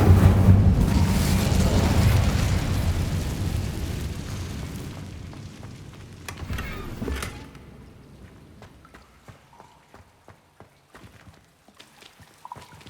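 The Incendio fire spell in the video game Hogwarts Legacy goes off as a loud, roaring burst of flame that slowly dies away over several seconds, leaving scattered faint clicks and crackles.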